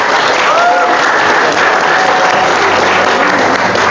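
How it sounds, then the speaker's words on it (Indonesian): Loud, dense applause from a large audience at a university discussion event, a continuous wash of clapping that fills the whole stretch at steady volume. "Tepuk tangan dulu buat Fadlan."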